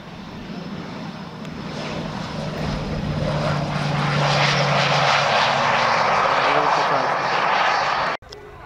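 A propeller aircraft engine at the Grefrath airfield in Germany swells from a moderate drone to a loud, close, steady roar, then cuts off abruptly near the end.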